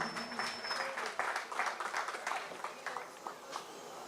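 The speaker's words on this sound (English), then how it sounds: "let's give a round of applause for Mr. Stephen Mohammed" A modest crowd applauds a judge being introduced at a steelpan solo competition in Guayaguayare, Trinidad, uneven clapping that swells and then thins out, heard at a moderate distance.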